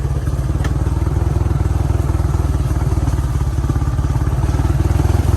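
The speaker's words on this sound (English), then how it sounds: "Thank goodness for a tractor." A tractor engine running steadily on a wooded farm trail, with a loud, close, rapid chugging throb and no talking.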